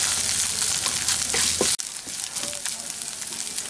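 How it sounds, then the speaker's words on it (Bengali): Mixed spices with ginger paste sizzle in hot oil in a wok, a loud, steady crackling fry with a brief stir-like break midway, heard close and without talk. "সব মশলা একসাথে এটাকে ফ্রাই করে নিচ্ছি।"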